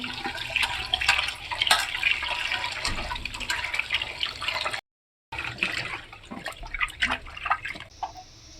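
Water splashes and pours in uneven bursts while fish is washed, nearby, with a brief silent gap midway before the sloshing resumes.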